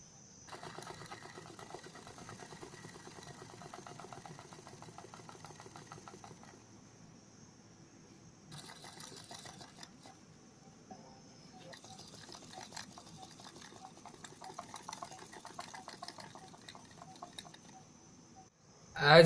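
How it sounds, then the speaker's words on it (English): A small DC motor's rotor spinning clockwise, giving a faint, steady buzzing whir that keeps running with slight shifts in intensity and a sharp noise at the very end. "the rotor is rotating in clockwise direction"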